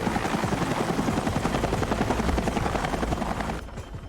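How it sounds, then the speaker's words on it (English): A helicopter's rotor thumps loud and close in a steady rapid beat during a hurricane hospital evacuation, then drops somewhat toward the end. "As the helicopter gets closer"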